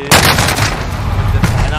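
Loud, close gunfire in the Call of Duty video game, a sharp shot followed by another burst, with no talk over it.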